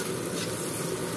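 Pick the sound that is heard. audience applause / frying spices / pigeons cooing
frying spices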